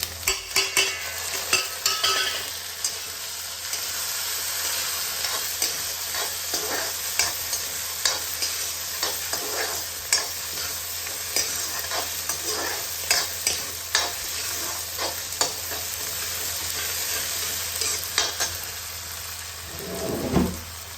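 Tomatoes and green chili sizzle in a hot pan over browned onions, with a steady frying hiss broken by repeated scraping stirs, close and fairly loud, with no talking.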